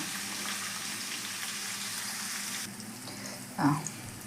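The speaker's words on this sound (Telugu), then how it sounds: "ఉల్లిగడ్డలు గోలినాక కొద్దిగా పసుపు వేసి మెంతి కూర వేసుకుందాం" Onions and fenugreek leaves fry in a pan with a steady broadband sizzle that softens partway through, then a brief stir or scrape near the end; no one speaks.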